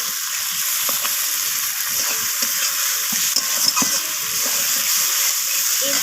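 Tomatoes, ginger, garlic and spices sauté with onion and potato in a pan for a spicy bhetki fish bone curry, with a steady close sizzle and occasional stirring scrapes, and no talking.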